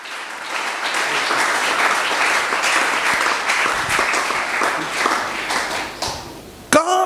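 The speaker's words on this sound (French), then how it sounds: "Est-ce que vous pouvez acclamer pour la parole?" A church congregation bursts into sustained, loud applause, many hands clapping at once for several seconds before the clapping thins and a sharp bright tone cuts in near the end.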